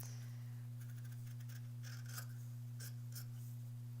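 Scissors trim fabric on a foundation paper pieced quilt block, making a few soft, quiet snips and rasps over a steady electrical hum.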